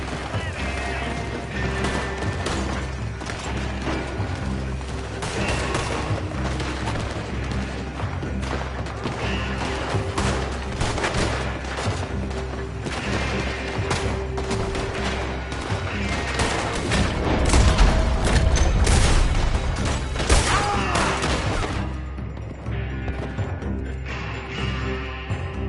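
Heavy gunfire rattles through a chaotic shootout in Red Dead Redemption 2, a continuous loud barrage of shots and crashes over a driving musical score, with no clear voices.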